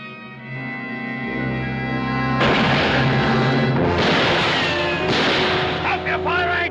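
Loud gunfire in a Western battle between settlers and Paiute fighters, booming over dramatic orchestral music. Several heavy shots burst out in quick succession.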